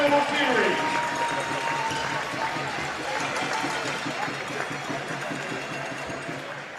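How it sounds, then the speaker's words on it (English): Crowd applause at a youth league grand final between Frankston and Wyndham: a steady, moderately distant patter of clapping lasting several seconds, with a voice over it. "One last round of applause for Wyndham."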